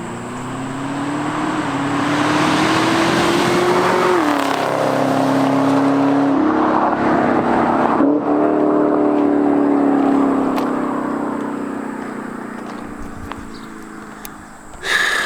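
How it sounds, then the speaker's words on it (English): A Chevrolet Camaro ZL1 on its stock exhaust passes by outdoors, a steady engine drone swelling as it nears, shifting pitch as it goes past, and fading away, heard alone. "Little stock exhaust flyby"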